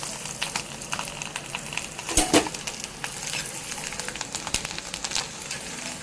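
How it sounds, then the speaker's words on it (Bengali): Chopped garlic frying in hot oil for a dal tadka, a steady close crackling sizzle with occasional stirring scrapes and a brief louder burst partway through. "রসুনগুলো খুব ভালো মতো লাল লাল করে ভেজে নিচ্ছি"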